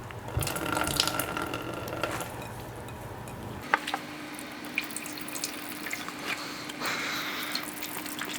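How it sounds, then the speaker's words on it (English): Excess water draining off salted cucumbers being prepared for Japanese-style sunomono, a steady trickle and patter of liquid with a few sharp drips and small clicks, close by, with no talk. "So let's go ahead and drain this excess water."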